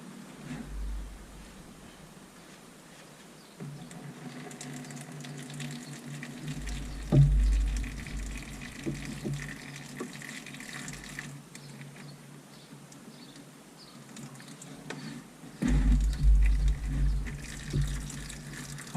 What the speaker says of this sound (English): there's no point in you watching black oil drain out of a sump